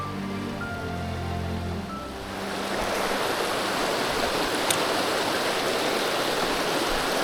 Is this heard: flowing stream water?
yes